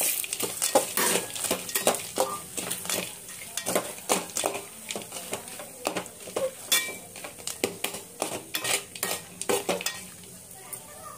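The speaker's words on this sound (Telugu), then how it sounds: "కలుపుకొని ఇప్పుడు వేయించుకొని పలుకులు వేసుకోవాలి" A spoon stirs and scrapes a pan as food fries with salt and a pinch of turmeric, giving a rapid run of clinking, scraping strokes over a steady sizzle, close and fairly loud throughout.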